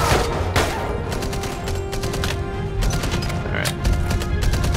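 Heavy machine gun in the World War II shooter Enemy Front, firing dense rapid bursts of loud gunshots over a constant booming battle din, close and continuous throughout.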